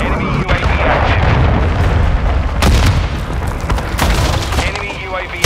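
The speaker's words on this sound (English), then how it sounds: "Hostile cruise missile launched." A cruise missile strike in Call of Duty: Modern Warfare 2 multiplayer, heard as a loud, sustained, rumbling boom with crackling bursts that fills the whole stretch.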